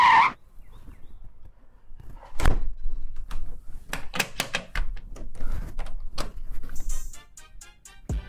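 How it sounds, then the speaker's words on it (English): A house door shut with a solid thunk, then a series of sharp metallic clicks and clacks as the lock and latch are worked, close and fairly loud, with no one speaking. "Let me close the door and lock it just in case"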